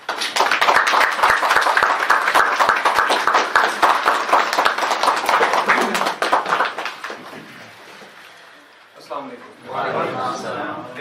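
An audience at a training event applauds loudly and steadily for about six seconds, the clapping fading out before a voice begins speaking.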